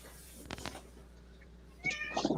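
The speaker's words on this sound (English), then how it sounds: "Oh, I hear a kitty." A cat meows twice, a short pair of calls followed by a louder, drawn-out meow near the end, fairly close over a quiet indoor background.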